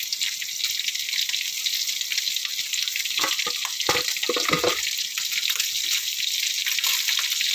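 Dried smoked fish, garlic, ginger and onion drop into a hot pan together, giving a loud steady sizzle with a brief burst of crackling and clatter midway, no talking.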